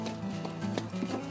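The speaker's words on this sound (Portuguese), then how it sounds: "O domador toca o cavalo para que ele se movimente." A horse being worked by its trainer during bit training, hooves clip-clopping in a steady rhythm at close range with no talk.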